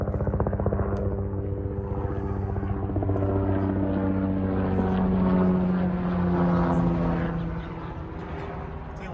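Rhythmic thumping rotor of a helicopter, loud and sustained, its steady droning tone rising then easing as it passes overhead.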